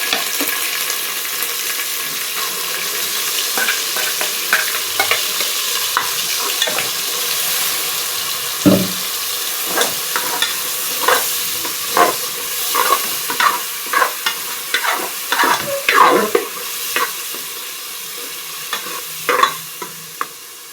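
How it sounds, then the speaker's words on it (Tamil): Ground spice paste is stirred in a frying pan of oil for a mutton liver fry, with a steady sizzle under repeated scraping and stirring strokes that grow busier and louder toward the end; no talking. "இப்போ இந்த ஸ்டேஜில் நம்ம அரைச்சி வச்சுருக்க பேஸ்ட்டை இதில் ஆட் பண்ணிக்கலாம்"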